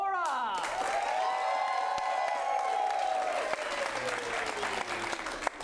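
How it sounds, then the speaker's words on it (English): An improv comedy audience claps and cheers loudly to vote, a sustained roar of applause with a rising whoop early on and scattered shouts as it carries on. "gonna clap for everyone, but clap loudest for the film you want to see go on in the next round"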